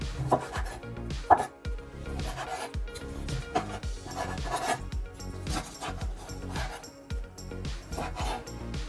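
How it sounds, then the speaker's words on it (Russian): A knife chops cooled cooked chicken into pieces on a cutting board in a home kitchen, with steady, irregular thuds and scraping strokes and no talking. "Так, курочка наша уже подостыла, будем ее нарезать."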